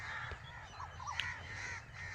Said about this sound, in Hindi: ये दरख्त, ये कौवे बैठे हैं